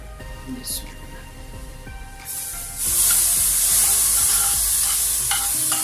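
Fried vermicelli tipped into milk in a pan for sheer khurma, soft clatter and stirring under a voice, then a loud steady hiss and bubbling rising and holding near the pan.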